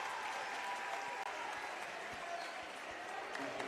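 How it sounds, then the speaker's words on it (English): A crowd at a high school basketball game in a sub-state home game breaks into steady, sustained applause, a dense wash of clapping filling the gym with faint voices mixed in. "And they get a huge round of applause."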